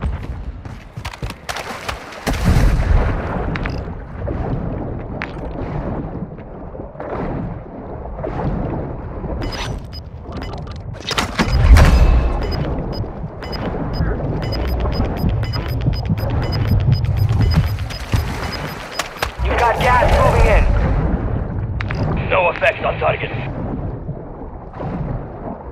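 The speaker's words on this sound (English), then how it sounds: "Requesting fire mission. Target marked." An artillery fire mission strike in Call of Duty: Warzone 2 brings a run of heavy, rumbling blasts and booms, loudest around the middle, over continuous battlefield noise.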